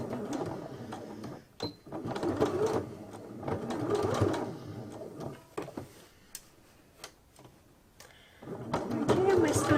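Sewing machine stitching a fabric face mask with a 1 centimetre seam, running in rapid buzzing bursts separated by pauses, close and moderately loud, with a person talking between the runs.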